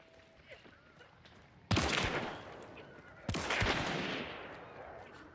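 Two loud gunshots from the Vetterli Cyclone rifle in Hunt: Showdown, close and sharp, each followed by a long fading reverberant tail, with quiet ambient game noise before the first shot.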